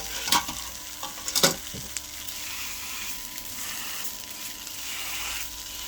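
Dried fish frying in oil in a pan over raised heat, a continuous crackling sizzle with a few sharp pops and stirs near the start.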